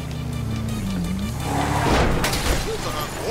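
Vehicle engines roaring in GTA V during a chase involving a large motorcycle, a loud engine drone that rises and surges with a brief tire-squeal-like burst midway, under other game noise.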